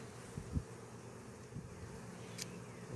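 Honeybees buzzing around an opened hive during a hive split outdoors, a faint steady drone with a few soft bumps and one brief brighter rustle, quiet and somewhat distant, no talking.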